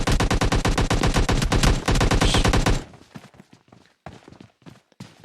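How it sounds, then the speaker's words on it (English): An AK rifle in the PUBG Mobile video game fires a loud, rapid automatic burst for nearly three seconds, followed by scattered quieter thuds and footsteps. "There's Bait trying to hit him with the AK, but AK does not make contact."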